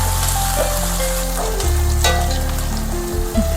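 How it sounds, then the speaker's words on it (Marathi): Puffed-rice chivda mixture frying in oil, a steady dense sizzle and crackle running throughout with faint stirring scrapes, close and fairly loud with no talking. "सर्व फिरून घेते मी, छान तळून घेते यामध्ये तेलामध्ये।"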